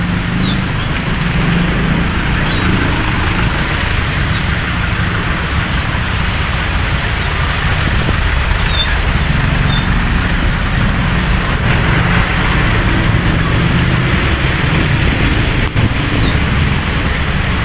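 Dense road traffic on Quezon Avenue in Quezon City, a constant loud rumble and wash of engines and tyres that holds steady for the whole stretch with no clear single pass-by.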